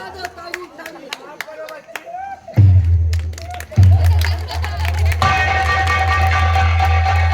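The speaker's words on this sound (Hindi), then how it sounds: "लोग ताली बजाना" Audience at a village nautanki folk theatre performance claps, first scattered and then swelling into steady, loud sustained applause, with crowd noise and voices mixed in.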